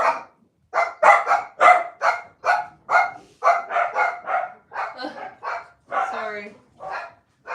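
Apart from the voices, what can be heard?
dogs barking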